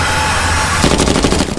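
Rapid bursts of automatic gunfire from a movie action scene, loud and close, joining in partway through over a dense background of score and effects.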